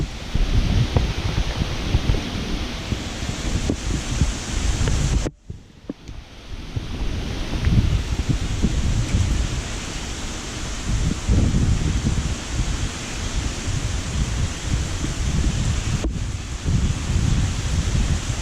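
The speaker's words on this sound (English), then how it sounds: "We got sideways rain." Wind-driven sideways rain during Hurricane Dorian in Hampstead, North Carolina, a dense continuous roar of gusting wind and rain rushing past the microphone, with a brief dip partway through before the heavy wash resumes.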